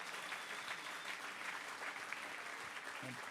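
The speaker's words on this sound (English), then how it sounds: "How about one more round of applause for Mr. Jim Sinegal?" Audience applause at an awards ceremony honoring laureates, a steady dense wash of clapping from a large crowd that fills the whole stretch without letup.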